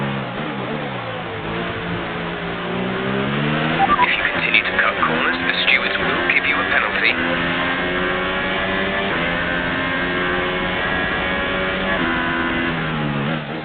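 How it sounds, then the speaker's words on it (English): An F1 car's engine fails in the F1 2018 racing video game: a steady, layered engine whine shifts pitch, with a burst of rough, crackling sputter in the middle, all heard close and continuous. "Esteban Ocon has got an engine failure, and he does not sound very happy"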